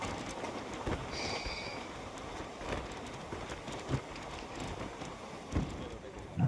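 A Tiruchirappalli Intercity Superfast Express rolling along, heard from inside as a steady broadband rumble with periodic thumps from the rail joints and a faint high squeal near the start.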